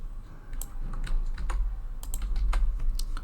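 Quick, irregular typing on a computer keyboard, close and clear, with bursts of key clicks over a low background hum and no talking.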